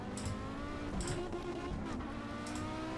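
An Audi Quattro rally car in the Assetto Corsa racing game drives with a steady engine drone and tyre noise, punctuated by a few brief scrabbling bursts, loud and continuous with no talk.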